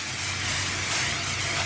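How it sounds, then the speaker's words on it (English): Cooking spray hisses in one steady burst over the tops of four burgers in an air fryer, close and continuous for nearly two seconds with no talking. "let me spray the top of the burgers."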